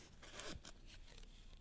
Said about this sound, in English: take your scissors and slip it underneath the cord and cut at each end